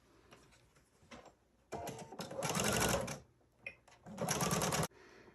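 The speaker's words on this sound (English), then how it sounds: "I'm going to take it back to my machine and top stitch it over there" A sewing machine top stitching a fabric school bus pencil case: two loud bursts of rapid, buzzing stitching separated by a short pause, close up with faint handling noise between runs.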